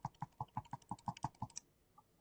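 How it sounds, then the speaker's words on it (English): Keys on a computer keyboard are tapped about ten times in a quick, even rhythm, crisp close clicks that stop abruptly, followed by one faint later tap. "I'm arrow keying down to get this a little bit more manageable."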